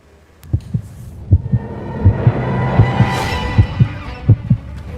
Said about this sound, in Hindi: बॉक्स में धड़कता एक दिल